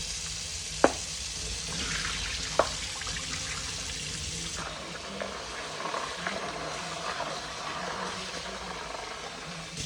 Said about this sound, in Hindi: तो यहाँ पर जी चनों को मैंने अच्छे तरीके से धो लिया है